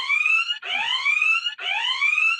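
A loud electronic automatic defense alarm wails in repeating rising sweeps, three cycles in quick succession, close and alone.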